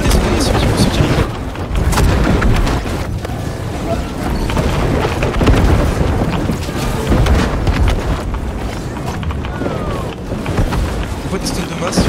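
Cannons firing during a video game battle, a dense continuous barrage of booms and cracks with rumbling low end, loud and close, while a voice talks over the fighting.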